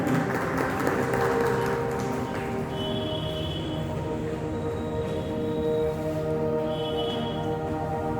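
Steady audience applause at an award ceremony on stage, a sustained crowd of clapping hands at moderate level throughout, with a faint high tone drifting in the background.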